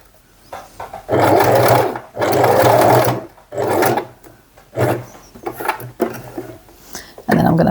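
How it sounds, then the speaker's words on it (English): A sewing machine stitches a fold onto the front of a bag strap, whirring loudly in several bursts of different lengths separated by short pauses. "So I'm going to sew to about here."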